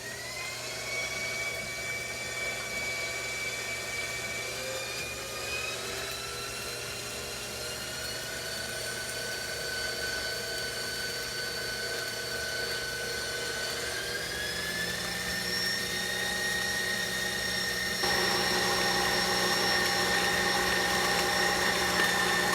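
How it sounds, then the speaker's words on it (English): A KitchenAid stand mixer beats eggs into dough, a steady motor whine held for over twenty seconds, rising in pitch and getting slightly louder as the speed is stepped up. "I'm putting the KitchenAid up. 1/4 of the eggs, and I'm going to let that beat."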